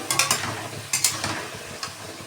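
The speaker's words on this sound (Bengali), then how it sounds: "মশলা কষছি, রান্নাটা বসিয়ে দিয়েছি" Spices stir-fried in a pan for a fish curry with cauliflower and potato, a steady close sizzle broken by repeated scraping strokes of a spatula, no talking.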